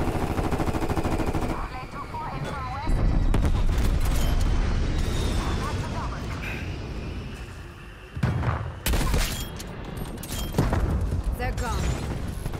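Strafe run air attack in Call of Duty Cold War: a long stretch of loud, sustained gunfire and booming impacts, with bursts cutting out and resuming, under occasional talk.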